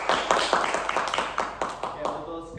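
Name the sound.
class applauding for Andika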